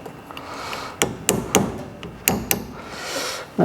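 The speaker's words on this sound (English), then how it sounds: "I just get a punch and a hammer and just tap that round" A hammer drives a punch to tap a front wheel bearing round on a 1968 Triumph Vitesse, giving about six sharp metallic knocks in an uneven rhythm, close and loud over quiet workshop background.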